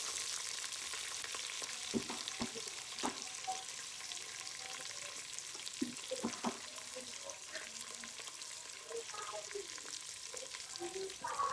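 Chilli and onion fry in a pan with a steady broadband sizzle, punctuated by a few sharper scrapes and clinks of stirring throughout.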